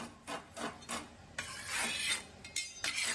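Dry cement mortar mix is stirred and scraped in a container, making continuous gritty rubbing and rasping strokes in an uneven rhythm, close and moderately loud.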